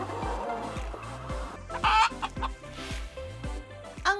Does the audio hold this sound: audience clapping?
no